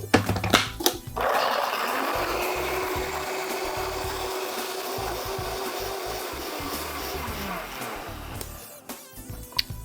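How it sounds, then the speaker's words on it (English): Blender crushing ice for a homemade mocha frappuccino, a loud steady grinding whir that runs for nearly the whole stretch, starting with a few brief rattling bursts and easing off near the end. "And then we're going to blend it."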